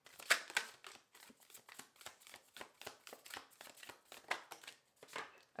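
Tarot cards are shuffled close up in a quiet room, a run of soft riffling and slapping strokes in an uneven rhythm.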